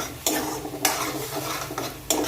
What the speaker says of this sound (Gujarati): આપણે મસાલાને સારી રીતના શેકીશું તો જ આપણું શાક સરસ થશે